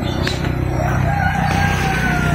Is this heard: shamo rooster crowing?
yes